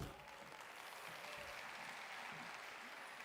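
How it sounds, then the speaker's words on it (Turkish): A startup pitch competition audience applauds, a steady even wash of clapping that stays constant for a few seconds at low level with no voices on top. "it just receives such an applause"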